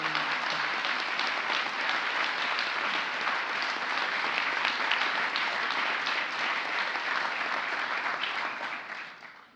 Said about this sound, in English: Please join me in giving a big round of applause to my fellow awardees